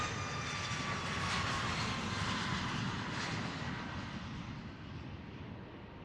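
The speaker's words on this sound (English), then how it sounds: "737 MAX 10 on the takeoff roll from Boeing Field" A Boeing 737 MAX 10 jet on its takeoff roll at Boeing Field, a steady, loud broadband engine roar that holds strong and then slowly fades as the aircraft pulls away, with no voices over it.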